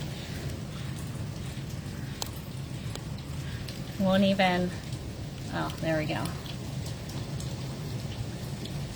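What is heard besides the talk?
rain falling and hitting outside during a storm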